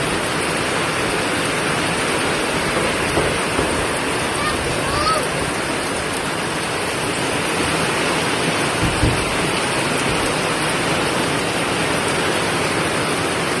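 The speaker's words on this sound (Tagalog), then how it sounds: "Sobrang lakas ng ulan guys." Steady heavy typhoon rain in Eastern Samar roars without letup, a dense wash of noise filling the whole clip with no voices.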